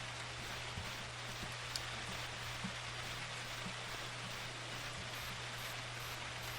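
Steady rain falling at night in the video game BlackSoul, an even, soft hiss of drops with a low constant hum underneath and a few faint ticks scattered through.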